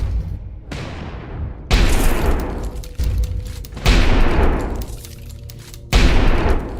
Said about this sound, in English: Mortar's doing its job.